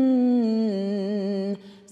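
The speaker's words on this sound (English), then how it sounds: "we're just going to place our tongue gently in between our teeth" A voice hums one sustained note with the tongue resting gently between the teeth as a vocal warm-up, a steady, slightly buzzing tone held alone for about a second and a half before it stops.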